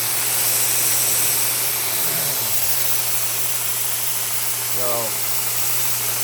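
A homemade 72x2 belt grinder's motor runs on test with a steady low hum over a broad airy hiss; someone says a single brief word near the start.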